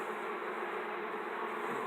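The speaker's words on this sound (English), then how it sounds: "Get all the worker bees out of there." Worker honeybees from an Africanized split buzz during requeening with an Italian queen, a dense steady drone of many wings close by that holds even and unbroken, with no talk over it.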